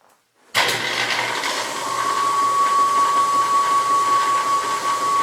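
Covington 30-inch rock saw, freshly fitted with a new pulley, starts abruptly after near silence and settles into a loud, steady whirring motor hum with a sustained high tone, running evenly without knocking.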